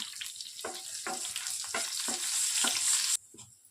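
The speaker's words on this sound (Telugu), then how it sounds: "ఆయిల్ హీట్ అయిన వెంటనే కొన్ని పోపు గింజలను వేసుకోవాలి. అలాగే కొద్దిగా కరివేపాకు, 4 ఎండుమిర్చిని వేసేసుకుంటున్నాను." Mustard seeds, curry leaves and four dried red chillies tempering in hot oil for an Andhra cucumber chutney, giving a loud, steady sizzle with crackling bursts and stirring scrapes that cuts off abruptly near the end.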